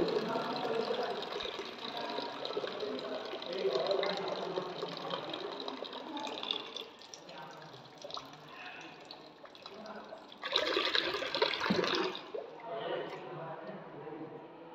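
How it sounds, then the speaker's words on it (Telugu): A water pump motor fills a tank on an automatic overflow-cutoff setup with a continuous whirring hum and rushing water, swelling louder near the end, while a voice speaks quietly at times. "నీళ్ళు అనేవి అయిపోయిన తర్వాత మళ్ళీ మోటార్ అనేది ఆన్ అయింది"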